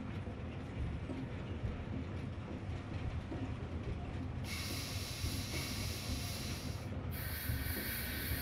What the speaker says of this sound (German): Oh, das Bremsquietschen, das hätte sich echt sparen können.